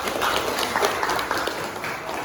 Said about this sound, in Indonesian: Tepuk tangan dulu untuk Karoma